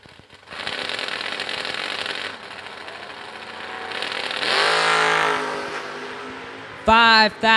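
Hot rods launching at a drag strip: a loud, sustained engine roar rising and building, followed near the end by a sharp, high-pitched howl of an engine passing close.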